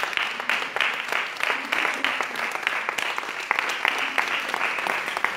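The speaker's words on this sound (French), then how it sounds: "il mérite des gros applaudissements" Audience applause at a cheque presentation ceremony, a dense, steady round of many hands clapping that holds at moderate volume throughout.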